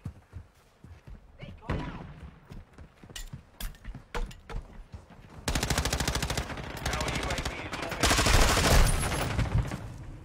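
Video game gunfire: scattered single shots and thuds build into long, loud bursts of rapid automatic fire, with a voice talking over the early part.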